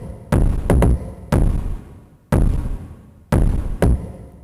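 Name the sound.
double kick drum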